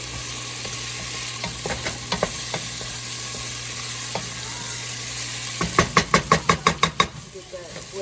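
Onions and garlic fry in a pan over medium heat: a soft continuous sizzle runs throughout, broken by scattered spatula knocks and then a quick run of sharp rhythmic taps near the end.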